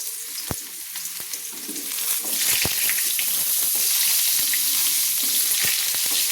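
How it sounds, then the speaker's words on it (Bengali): Mixed vegetables, carrots first, dropped into hot oil to fry for a fish-head curry: sharp clatters and taps of pieces hitting the pan, then the sizzle swells to a loud, steady frying hiss. "আমি যে পাঁচমিশালি সবজি কেটে ধুয়ে রেখেছিলাম সেই সবজিগুলো এবার ভেজে নিচ্ছি"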